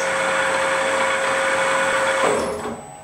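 A large CNC lathe spindle runs forward in high range at about 500 RPM, giving a loud steady mechanical whine with a constant tonal hum that winds down near the end.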